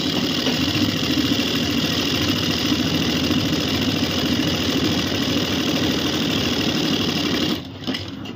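A sewing machine runs continuously after its tension bolt has been loosened, a dense fast mechanical whir and clatter held close and steady, briefly dipping near the end.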